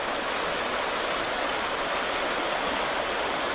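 River flowing below a high bank during a drought, a broad, steady rushing hiss of water that stays constant and fairly loud from start to finish.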